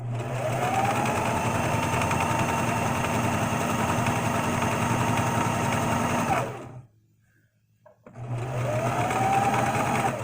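A sewing machine stitches fabric past pins in a continuous steady whir, stopping for about a second near the middle before starting up again, loud and close.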